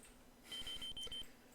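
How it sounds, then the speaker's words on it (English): A thin electronic wristwatch beep from the Space Quest II computer game, a short run of steady high-pitched tones lasting under a second, faint and clean against a quiet background. "A beep emanates from your wristwatch."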